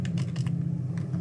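Typing a phone number on a computer keyboard during data entry in wholesale inventory software, a brief run of light, quick key clicks in irregular bursts over a steady low background hum.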